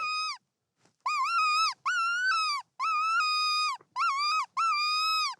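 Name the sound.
coyote call mimicking barks, yips and howls for hunting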